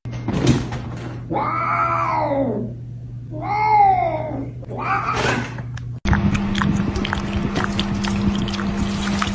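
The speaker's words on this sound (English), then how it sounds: "Meow. Meow." A cat meows loudly and close in three drawn-out, rising-and-falling calls, followed by a busier stretch of shorter sounds over a steady low hum.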